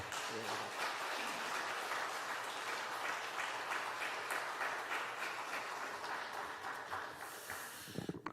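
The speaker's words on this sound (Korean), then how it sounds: "우리 환영의 박수 우리 같이 하겠습니다." Church congregation at a Korean service giving welcoming applause for a visiting pastor, a full, even roar of clapping heard from some distance that fades slightly toward the end.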